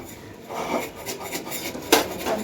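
Milk chitoi pitha cakes are lifted out of the pan with a utensil, giving light metallic clinks and scrapes against the cookware, a few separate taps with one sharper knock, close by and fairly soft.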